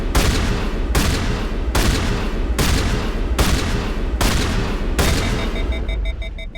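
A gun firing in the Mass Effect Trilogy game: about seven loud, sustained bursts of rapid fire in a steady rhythm, each cut by a brief gap, with an electronic tone creeping in near the end.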